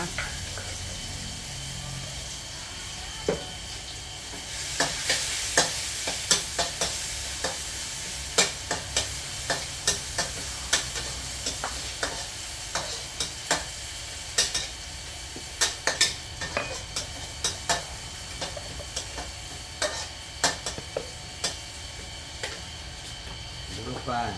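Chili peppers stir-fried in a hot pan for pad kra pao with pork, sizzling loudly under repeated sharp clacks of a spatula scraping and striking the pan in an irregular rhythm, close up, with a voice occasionally heard.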